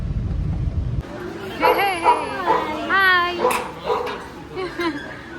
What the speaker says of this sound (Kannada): ಎರಡು ಗೋಲ್ಡನ್ ರಿಟ್ರೈವರ್ ಡಾಗ್ಸ್ ನಮ್ಮನ್ನು ವೆಲ್ಕಮ್ ಮಾಡೋಕ್ಕೆ ಎಷ್ಟು ಚೆನ್ನಾಗಿ ಬರ್ತಾ ಇದೆ